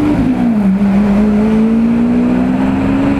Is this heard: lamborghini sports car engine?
yes